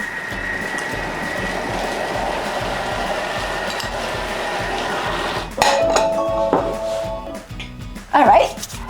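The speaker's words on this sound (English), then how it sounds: "And it's going to tell us 5 seconds, speed 5, and it's chopping again" A Thermomix chops spinach dip at speed 5, with a steady whirring motor hum that changes abruptly partway through to clattering, clinking blade-and-bowl sounds with squealing tones near the end.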